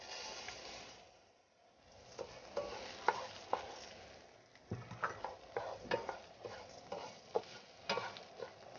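A spoon stirs large-cut mushrooms into rice in a pan with onion and garlic, giving scraping, clinking strokes over a soft low sizzle, quiet at first and then regular and closer.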